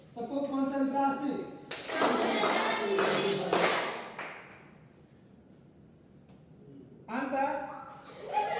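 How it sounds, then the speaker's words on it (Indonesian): A school class claps a quick rhythmic concentration-clapping pattern together, mixed with voices chanting in unison in Indonesian, then pausing before the chanting resumes. "Jadi kita mulai tepuk konsentrasi."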